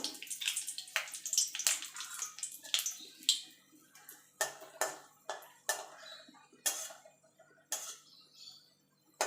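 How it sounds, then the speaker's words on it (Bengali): Dried red chillies fry in hot oil, giving off a run of sharp, irregular crackles and spits that come in separate bursts and fade between them. The sound is close and moderately loud, with no talking. "এবার আমি কটা শুকনো লঙ্কা ভেজে নেব"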